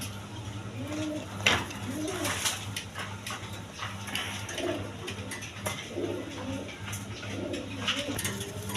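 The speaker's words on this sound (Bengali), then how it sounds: "এখানে দুইটা নর কবুতর আছে" Two male pigeons coo repeatedly close by, a pigeon pair for sale, their soft rolling calls recurring every second or so over a low steady hum with one sharp knock.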